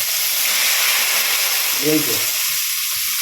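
Banana flower dropped into hot oil with dried chili and nigella seeds, giving a loud continuous sizzle and hiss. A brief voice or tonal sound cuts in near the middle.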